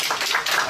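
A brief burst of audience clapping for a shy banjo player at a live country radio show, with quick uneven claps close and fairly loud.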